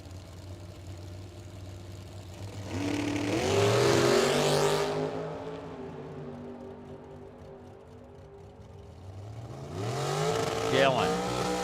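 A drag-racing dragster and a Camaro launch down the strip at Firebird Motorsports Park: roaring engines climb steeply in pitch over a few seconds, ease off, then a second loud launch rises near the end.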